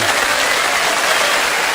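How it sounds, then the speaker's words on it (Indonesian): Wedding guests applaud a couple being welcomed at a wedding party, a steady dense clapping that fills the space without a break, close and loud, with no voices standing out. "Para undangan kita sambut juga dengan tepuk tangan yang hangat sekali."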